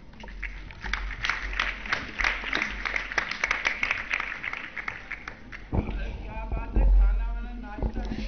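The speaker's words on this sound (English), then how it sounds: "Give her a huge round of applause" Dense applause from schoolgirls in an audience at a ceremony at Navnidh Hassoml Lakhani Public School, filling most of the stretch before a voice speaks over the fading claps near the end.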